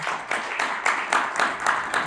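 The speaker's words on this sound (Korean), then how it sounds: "여러분 박수로 맞이해 주십시오" An audience at an international forum on fair elections applauds to welcome a speaker, with steady rhythmic clapping in evenly spaced bursts filling the room.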